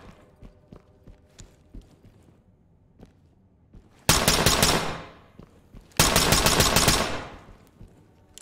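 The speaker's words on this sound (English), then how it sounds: "Selective fire, change it to full auto. It's so loud." Two loud bursts of full-auto rifle fire in the tactical shooter game Ready or Not, each a dense, rapid volley about a second or two long, separated by a short pause, with faint footsteps and small clicks before them.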